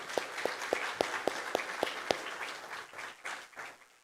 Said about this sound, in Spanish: Y un fuerte aplauso para ellos.